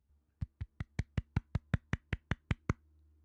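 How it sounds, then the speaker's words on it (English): Thirteen soft, evenly spaced hand claps in a slow, polite golf-clap rhythm, close and clear against a quiet room, then silence. "That is the official golf clap of Sports Corner."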